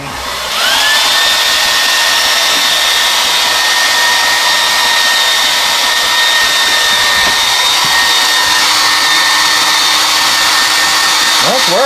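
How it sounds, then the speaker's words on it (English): A hair dryer blows hot air over a shrink-wrap sleeve from a PAAS Easter egg kit, switching on and then holding a loud, steady, close whine for about eleven seconds. "Now use the hairdryer."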